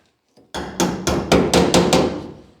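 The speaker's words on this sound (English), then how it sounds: "Yeah, I could have used a smaller hammer" A hammer strikes sheet metal on the body of a 1951 Ford, six or seven sharp, ringing blows in an even rhythm, close and loud with no talking.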